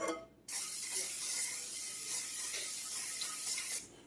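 A single continuous hiss of cooking spray onto a hot pan lasts about three seconds, close and fairly soft.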